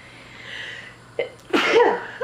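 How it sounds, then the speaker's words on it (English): A single sharp sneeze bursts out after a short breathy intake, loud and close, with a brief vocal sound trailing at the end. "I'm gonna sneeze now"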